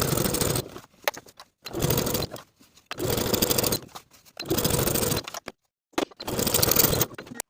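A sewing machine edge stitches along the folded edge of a jacket sleeve band, running in about five short bursts of roughly a second each, separated by brief quiet pauses.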